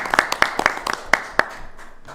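Sparse claps from a small Williston Selectboard meeting audience sound as scattered individual hand claps that fade out after a couple of seconds.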